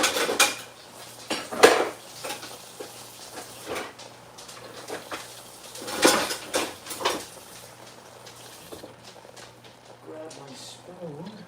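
Metal cutlery and dishes clatter in a home kitchen during beef stew cooking, with several sharp clinks and rattles in bursts, near and fairly loud, under a low steady hum with a person talking.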